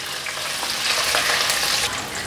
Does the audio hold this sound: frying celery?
yes